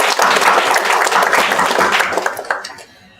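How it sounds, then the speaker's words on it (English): Conference attendees at a World Trade Day event in Mumbai give the panelists a loud, dense round of applause that holds steady and then fades out over the last second. "I'd like to have a round of applause once again for our panelists"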